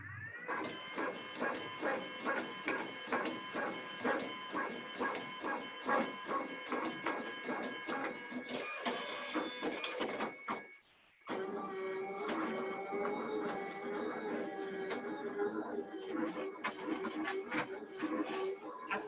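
A label printer runs on continuous label material, giving a steady rhythmic series of mechanical pulses with a whirring hum for about ten seconds, a brief gap, then a denser, busier stretch of motor and cutting noise, fairly close and without talk.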